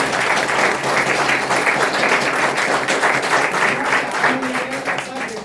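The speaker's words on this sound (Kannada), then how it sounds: "ಹೊಸ ಗೆಸ್ಟ್ ಇವ್ರಿಗೆಲ್ಲ ಜೋರು ಚಪ್ಪಾಳೆ ಕೊಂಡು" Loud, sustained applause from a gathered audience welcoming new guests, a dense wash of clapping that holds steady throughout with a faint voice briefly audible beneath it.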